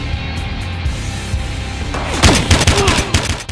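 Gunfire in the police shooter video game Battlefield Hardline on PS5, a burst of loud, sharp shots and booms crowding the second half after a steady low game ambience.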